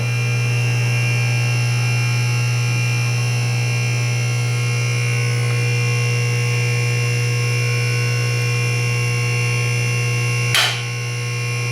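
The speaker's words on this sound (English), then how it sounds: "Push this button, you'll hear the motor start." A Harbor Freight automotive scissor lift's motor running steadily while raising the lift, a loud constant electric hum and whine that holds without change and ends with a short clunk near the end.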